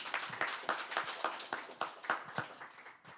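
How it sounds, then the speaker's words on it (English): Applause from a small audience at an evening live music event in a record store, a brief, fairly faint spatter of irregular hand claps with no talk over it. "I just want to give them a quick round of applause as well"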